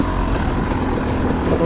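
A 2021 Yamaha YZ250X dirt bike fitted with a GYTR flywheel lugs in low second gear on a trail ride, its engine a steady, loud, close rumble that holds throughout the short stretch.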